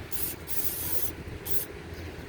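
Two close bursts of brake cleaner aerosol hissing onto a stuck Hyundai Sonata brake caliper, the first longer and the second shorter, loud and bright.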